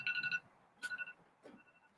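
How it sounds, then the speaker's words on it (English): An electronic alarm beeps in short bursts of rapid warbling tones, with three clustered pulses spread over about two seconds, moderately loud and close in a quiet room. "and second alarm"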